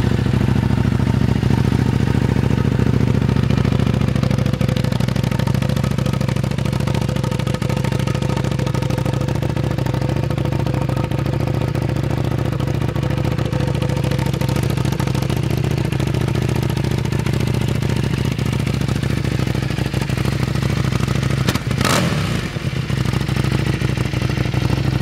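A fuel-injected Buell motorcycle engine with about 7,200 miles idles steadily and loud for a long stretch, a constant rumbling drone with one brief clatter near the end.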